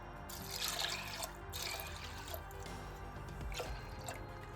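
Water pours from a bowl onto washed lentils in a pot, a close, quiet splashing trickle in a few short pours with dripping between them.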